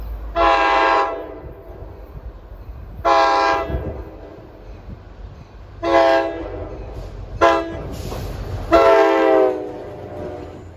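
A Metro North GP40FH-2 diesel locomotive on a Hoboken to Port Jervis passenger train sounds its horn in five loud, near blasts of varying length over the low rumble of the approaching train.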